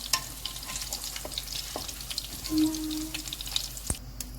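Salmon fillet fries in oil in a pan, a soft, steady sizzle and crackle up close, with a faint brief tone midway and a quiet clack near the end, no talking.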